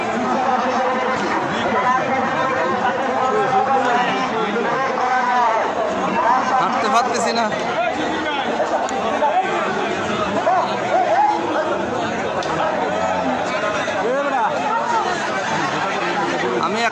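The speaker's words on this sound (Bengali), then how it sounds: "হাঁটার জায়গা নাই গরু বাজারে এত ভিড়" Dense crowd chatter at a crowded village cattle market in Tulpai Bazar, Kachua, Chandpur, ahead of Qurbani: many voices overlap in a close, continuous babble with no pauses.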